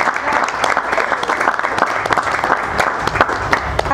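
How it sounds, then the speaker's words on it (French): An audience applauds guests at a Congolese film presentation, sustained and fairly loud, many hands clapping steadily with sharp individual claps standing out for the whole stretch. "On va applaudir une fois de plus pour ces messieurs."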